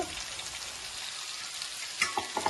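Vegetable pieces frying in a pan, a continuous close crackling sizzle with a few sharper stirring clicks near the end and no talking.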